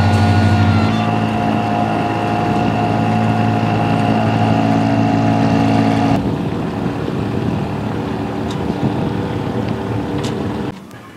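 The engine of Bob Duffy's boat drones steadily and close by with a constant humming pitch, then settles into a slightly quieter, rougher tone partway through.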